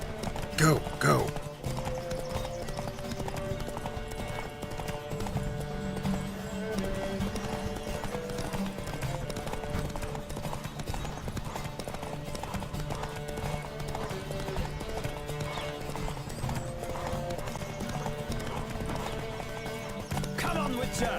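In The Witcher 3, a horse gallops in a race with steady, rapid hoofbeats that carry through the whole stretch, plus a whinny near the start, under game music and shouted voices.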